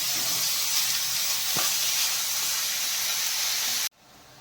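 Finely chopped onions hiss and sizzle loudly in hot oil while cooking for egg bhurji, a dense steady frying noise with a faint clink partway through, cutting off abruptly near the end.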